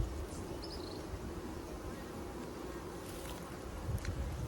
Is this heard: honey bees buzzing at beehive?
yes